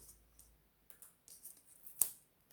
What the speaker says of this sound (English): grab our scissors and just cut off this rough end,